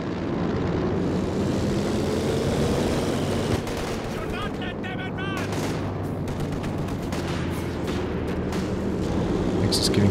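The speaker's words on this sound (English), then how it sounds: "the planes get called in" Aircraft roar in over a Company of Heroes 2 battlefield, a steady dense rumble of engines and distant gunfire and explosions filling the whole stretch, loud and continuous.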